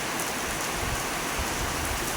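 Steady rain pours down in a village, a dense, even hiss of drops striking surfaces nearby without pause, and no voices over it.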